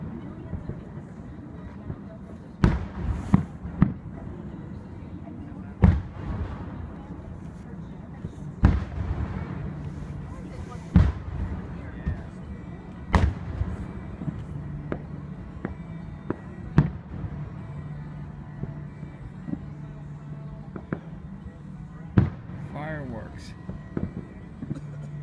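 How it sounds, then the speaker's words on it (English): Fireworks bursting over Delgrosso Park, Pennsylvania, at a Fourth of July show: sharp booms and cracks repeat irregularly every second or few, standing out above a steady low crowd murmur with people talking throughout. "Happy 4th of July, a big fireworks."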